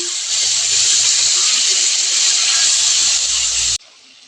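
A ground paste of onion, garlic, green chili and ginger hits a hot pan with a loud, close, steady hiss and sizzle that lasts several seconds, then cuts off abruptly.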